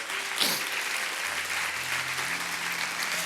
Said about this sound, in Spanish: O dale un aplauso a Dios.